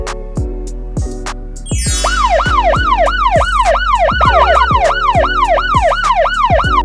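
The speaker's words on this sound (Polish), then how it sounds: "To ambulans! Tak, to ambulans." An ambulance siren in a Polish children's cartoon, preceded by a few short pulsing tones, then a loud, fast wail that sweeps up and down repeatedly and fills the rest of the clip.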